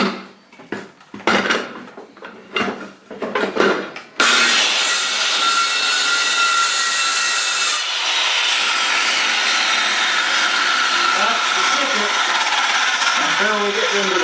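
A power saw cutting shallowly into plywood during a family room renovation: a few short, loud bursts of harsh buzzing, then one long steady cut of about ten seconds, close by with no talking.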